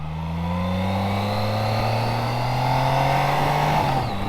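A BMW K75 motorcycle engine hums steadily and loudly up close, its pitch rising slowly as it accelerates, with a brief drop near the end and no talking.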